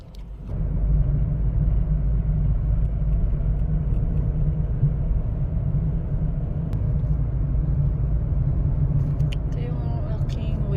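A car driving on a quiet road in Doha, Qatar, heard from inside the cabin: a steady, loud low engine and road rumble that holds even throughout, with a few faint clicks near the end.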